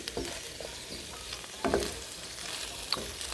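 Green beans with tofu, onion and green bell pepper sizzle in a hot pan, with short scraping stirs and clinks of a utensil over a steady frying hiss, no voices.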